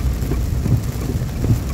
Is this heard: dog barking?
no